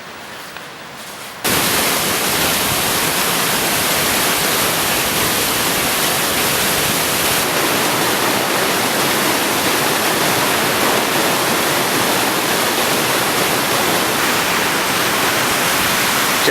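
Waterfall at Garibaldi Lake during summer camping, a loud steady broadband rush of falling water that fills the scene continuously after a short quieter start, with no voices.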